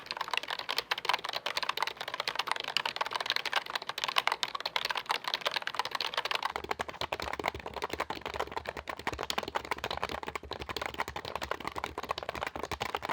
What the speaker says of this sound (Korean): 타건 사운드도 전형적인 멤브레인 키보드였는데요